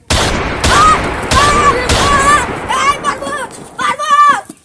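Gunfire effects in a Hindi comedy skit: several sharp gunshot bursts come in quick succession, loud and close, mixed with excited, shouting voices that grow more prominent toward the end.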